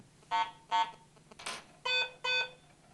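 Several short electronic beeps from a Garrett AT Pro metal detector in quick succession, two clean tonal blips, a brief harsher burst signaling iron, then two more steady tones, fairly close and moderately loud.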